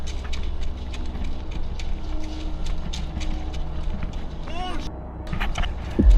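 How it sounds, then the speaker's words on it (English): A train approaching inside a dark tunnel, heard as a continuous low rumble and mechanical clatter with a rising metallic squeal near the end, captured close on a handheld action camera. "You can clearly hear the sound of the train"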